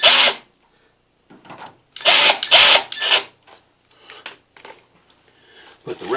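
A power driver loosens the wire terminal screws on an electric water heater element, heard as several short whirring bursts, two louder ones in the middle, separated by quiet pauses and softer handling noises.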